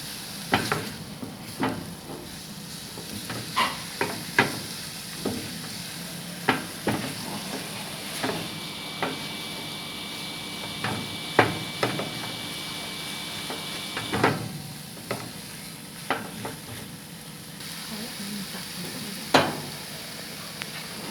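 Thai tamarind chili paste is stir-fried in a pan: scattered knocks and scrapes of a spatula repeat every second or two over a soft, low sizzle, close by and with no voices.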